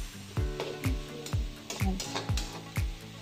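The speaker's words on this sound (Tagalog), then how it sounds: "Halu-haluin lang natin yan." Pork frying in a lightly oiled pan being stirred, a steady soft sizzle punctuated by about nine sharp scrapes and knocks of the utensil against the pan in an even rhythm.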